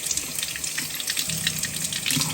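Glass canning jars washed by hand under a running kitchen tap, a steady close rush of water splashing over the glass and into the sink with light clinks throughout.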